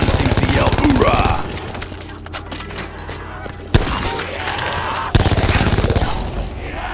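Machine gun fire rattles in a zombies video game: rapid, loud bursts at the start and end with sharp single cracks in between, under a voice talking.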